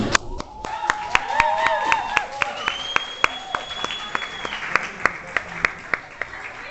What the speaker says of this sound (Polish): Wielkie brawa dla Tini.